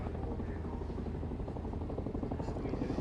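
RAF Chinook twin-rotor helicopter at the RAF Cosford Airshow 2015, a loud, dense rotor throb with a rapid rhythmic thumping that fills the air.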